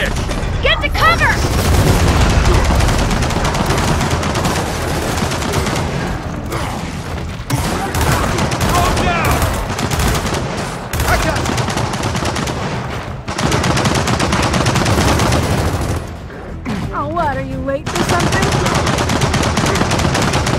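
Turret machine gun fire in Gears of War 4 pounds out in long sustained bursts, loud and close, broken by short pauses, with booms and mechanical clatter mixed in and voices shouting over the barrage.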